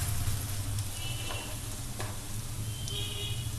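Millet vegetable cutlets fry in a pan over a low flame, giving a steady soft sizzle with a few faint scrapes as they are flipped, and no talk.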